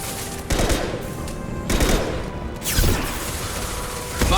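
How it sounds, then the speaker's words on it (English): Gunfire in Mass Effect 2 rattles through a room with fans, loud bursts of shots and impacts recurring over several seconds amid mechanical clatter. "Firing a high-impact shot"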